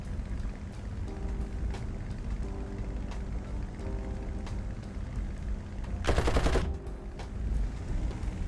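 Aircraft machine guns in War Thunder firing several sustained rapid bursts at ground targets, a harsh crackling chatter over a steady engine drone, with one loud dense burst near the end.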